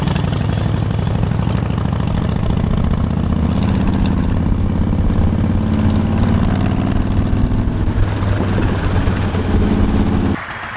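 A motorcycle engine running steadily and loudly up close, a continuous throbbing drone with a hot exhaust, that cuts off abruptly near the end.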